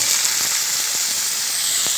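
Cut papaya pieces go into hot frying oil with browned chopped onions, giving a steady close sizzle and hiss throughout, with faint crackles and pops scattered over it and no talking.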